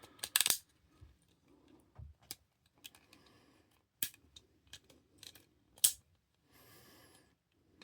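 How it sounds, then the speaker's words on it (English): Sharp plastic clicks from fingers slipping on a DualShock 3 controller during disassembly and cleaning, scattered irregular snaps close up, a few louder and spaced seconds apart with quiet handling noise between. "That's my fingers slipping, that clicking noise."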